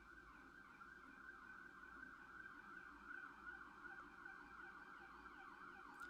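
Emergency vehicle sirens wail outside, faint and distant, their rising and falling tones sweeping repeatedly in a continuous cycle over low traffic rumble, with no talking.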